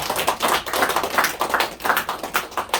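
An audience at a lecture event claps together in a dense, continuous patter of many hands, moderately close and steady for a few seconds with no talking.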